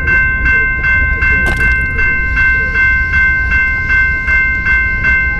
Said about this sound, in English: that was definitely a train